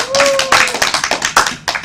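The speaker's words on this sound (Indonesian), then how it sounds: "tepuk tangan untuk kita hari ini" Classroom applause at the close of a micro-teaching lesson, a short burst of uneven hand claps with a voice talking over the start, clapping continuing in ragged bursts to the end.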